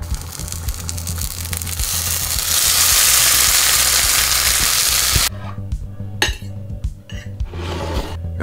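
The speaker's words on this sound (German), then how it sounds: "Der wird gebraten, der Tofu." Tofu fries loudly in a pan with a dense, steady sizzle that fills the first five seconds. Then the hiss drops off and is followed by clinks and scraping of a utensil against the cookware. No one speaks.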